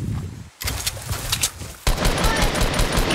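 Bursts of rapid automatic gunfire in the video game Fortnite, loud and close, with a short gap before a denser volley rattles on to the end.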